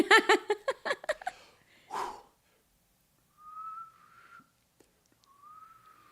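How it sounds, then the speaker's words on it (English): A person whistles two short, clear tones a couple of seconds apart, close and fairly quiet, after a burst of laughter and breathy sounds at the start. "I'm probably not even gonna be able to whistle now."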